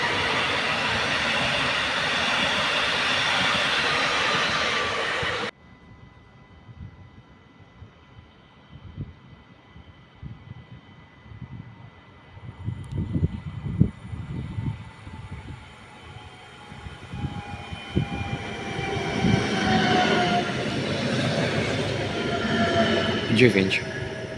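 A train passes through a railway station in Poland: loud steady rumble that cuts off abruptly, then quieter wheel clatter and rising metallic squeals as carriages roll by, with a platform announcement voice heard over it.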